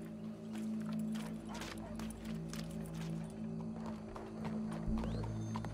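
Horse hooves clip-clopping and a neigh in the video game Red Dead Redemption 2, steady quiet hoofbeats with a brief whinny near the end, heard over low game ambience.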